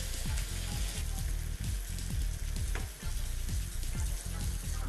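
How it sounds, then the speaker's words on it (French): Apples sizzle steadily in foaming, nut-brown butter over lowered heat, a dense continuous crackle running beneath a rhythmic low background beat. "Quand le beurre mousse et prend une couleur noisette, on vient déposer nos pommes à l'intérieur."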